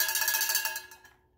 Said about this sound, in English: so I'm gonna try ringing my bell.